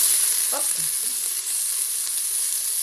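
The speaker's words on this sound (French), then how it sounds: "je vais mettre les oignons maintenant" Onions fry in a preheated pan for a turkey curry, giving a steady loud sizzle throughout with a few brief stirring scrapes near the start.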